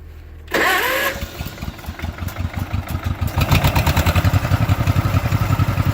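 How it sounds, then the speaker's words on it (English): The engine of a John Deere MC crawler cranks briefly, then fires and settles into a loud, close, lumpy idle with rapid regular exhaust pulses. "if I start it for you guys, should fire right up"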